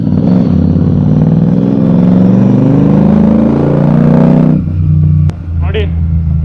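A Royal Enfield Super Meteor 650 with its 650cc engine, a deep, loud, steady rumble under a person talking nearby, cutting off abruptly near the end.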